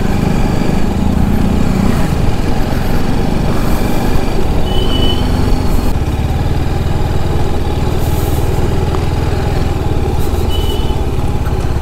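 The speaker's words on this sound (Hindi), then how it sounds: "एक और ट्रक।" Steady loud engine drone continues throughout, a motorcycle and a truck on a muddy road near Tirathgarh waterfall, with no clear separate pass-by and no talk.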